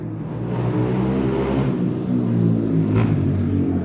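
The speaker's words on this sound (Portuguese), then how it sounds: "um mochileiro com moto barulhenta" A loud engine drones and rumbles continuously, its pitch shifting slightly as it revs, like a noisy motorbike nearby.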